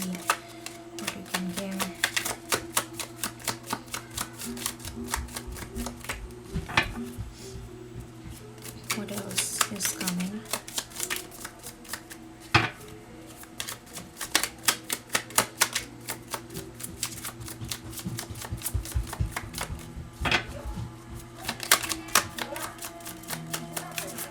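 Tarot cards are shuffled and drawn close by, a long run of rapid crisp flicks and snaps with occasional sharper slaps, while a person talks over them.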